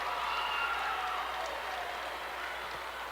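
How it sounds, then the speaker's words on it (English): Basketball crowd at a Minot State versus University of Mary men's game applauds steadily throughout, a broad, moderately distant wash of clapping with some crowd murmur. "I don't know why everybody's clapping."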